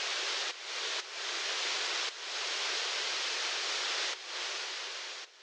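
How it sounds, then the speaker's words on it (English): Running water from the River Thames, recorded outdoors as a steady, loud broadband rush with a few brief dips in level, heard alone with no voices. "take some running water. And this is another field recording from the River Thames."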